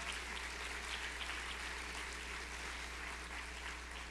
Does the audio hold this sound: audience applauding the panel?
yes